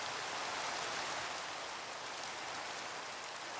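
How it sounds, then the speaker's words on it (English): Steady rain falls in Minecraft, a continuous hiss of dense, even patter with no pauses or distinct drops, fairly soft and uninterrupted by any voice. "Okay, so it has started raining."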